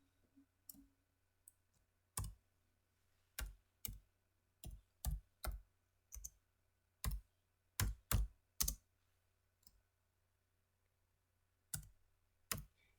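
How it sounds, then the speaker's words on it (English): Keys on a computer keyboard are tapped one at a time in irregular, spaced clicks as a fax number is entered, close and clear in an otherwise quiet room. "So I'm going to type that in right here."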